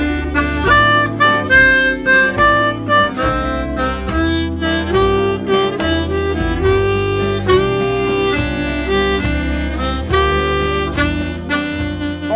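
Blues harmonica turnaround ending, played on the draw without bends: a steady run of reedy chords and single notes that sounds loud and close, with rhythmic pulses and no talking.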